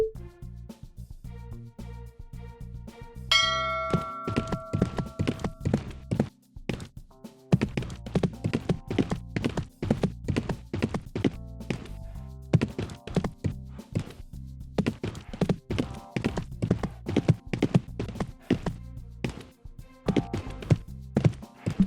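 Rhythmic hoof clip-clops of a horse in the riding game Riding Star 3, steady repeated thuds carrying on alone over a soft game music bed.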